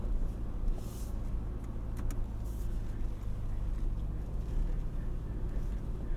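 A 2024 Toyota Land Cruiser 1958 rolls slowly downhill on an off-road trail, its low steady engine and tyre rumble continuous and close, with faint creaks and knocks from the cabin.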